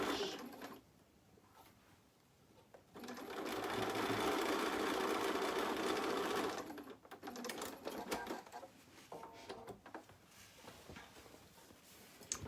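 A sewing machine stitching a quarter-inch seam on an embroidered snowflake project, one steady run of about four seconds between quieter handling sounds, close by.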